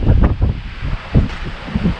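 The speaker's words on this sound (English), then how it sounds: "Very windy here." Blustery wind at Cushman Lake, Washington, buffets the microphone in low, rumbling gusts, steady and close throughout.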